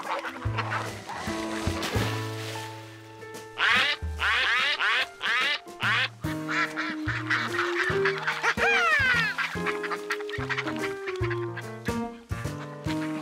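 Cartoon ducks quack and honk repeatedly in lively bursts by a river, layered over a light musical score, with no one speaking.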